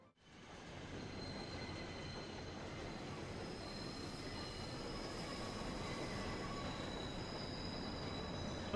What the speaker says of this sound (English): Oh, looks like our train's here.